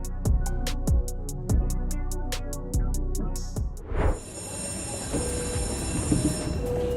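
A Japanese commuter train rolls past with rhythmic clacking wheel beats, followed by a loud, steady rumble and a high squeal from the rails.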